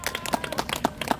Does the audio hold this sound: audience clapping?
yes